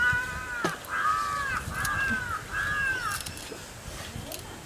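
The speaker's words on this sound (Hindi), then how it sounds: "कौवा काई काई करे छो" A crow caws four times in a row, each call a harsh, drawn-out rasp spaced under a second apart, moderately close over steady outdoor background noise.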